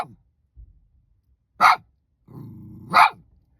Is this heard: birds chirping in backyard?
no